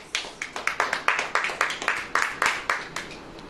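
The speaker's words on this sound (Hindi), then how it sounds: "ताली बजेगी कि नहीं?" Audience clapping in rhythm at a church sermon, a steady series of sharp hand claps repeating about every quarter second, moderately close and without talk.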